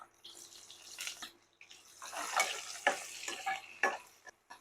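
Chili and onion frying in a pan for vegetable biryani, a close crackling sizzle with bursts of stirring and scraping that rise and fall, loud and alone.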